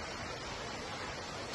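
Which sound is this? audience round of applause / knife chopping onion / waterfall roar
waterfall roar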